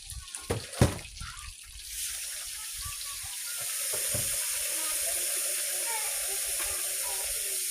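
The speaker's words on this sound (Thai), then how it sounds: "นี่คือขั้นตอนการล้างข้าวนะคะ" New rice of the Hmong harvest being washed with water before cooking: a few knocks and clinks at first, then a steady running, pouring water rush that continues close and even throughout.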